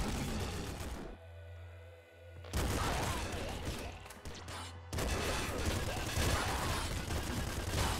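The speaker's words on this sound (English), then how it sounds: "My blob gun doing its business." The blob gun firing in the Nuclear Throne video game, loud bursts of rapid popping fire broken by a quieter gap, mixed with a low game hum.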